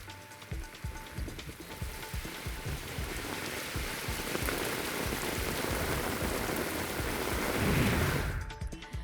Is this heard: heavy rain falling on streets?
yes